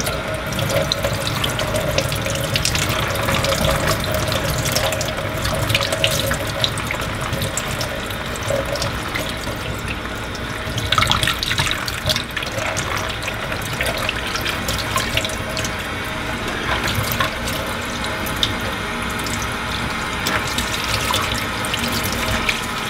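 Cold tap water runs steadily into a sink while venison fat is washed, a dense, continuous splashing hiss with small surges and clatter as the meat is handled under the stream, close and loud with no talk.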